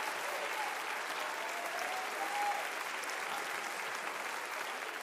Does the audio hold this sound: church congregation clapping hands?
yes